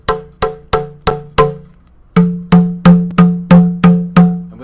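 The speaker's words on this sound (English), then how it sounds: "If you hear I hit the big tube, and it sounds higher pitched." Banging tubes from a sound exhibit struck by hand, five ringing metallic bongs in a steady rhythm, a short pause, then seven more louder hits with a deeper humming tone, each decaying quickly.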